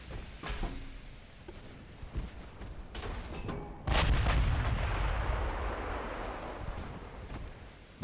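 Naval gunfire from warships in the Ultimate Admiral: Dreadnoughts video game: repeated booming cannon shots and distant explosions, with a heavy loud salvo near the midpoint followed by a sustained rumbling roar.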